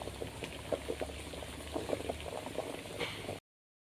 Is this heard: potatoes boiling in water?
yes